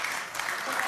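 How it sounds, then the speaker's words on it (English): A studio audience cheers and applauds in a dense, continuous burst of clapping and voices, loud and close, with no clear talk over it. "Why are you cheering?"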